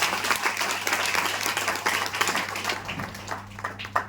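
A crowd at a health awareness program claps loudly and continuously, many hands blending into a thick wash of applause over a low electrical hum, with a few sharper claps standing out near the end.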